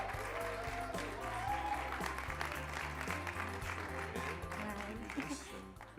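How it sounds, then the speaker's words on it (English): At a startup competition semi-final, an audience applauds to welcome a speaker to the stage, a continuous patter of clapping heard over a steady low musical bed that fades slightly at the end. "Let's give her a round welcome applause."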